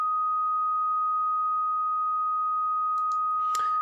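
A steady, pure sine test tone from a Focal test CD sounds continuously and evenly, then ends with a brief burst of noise.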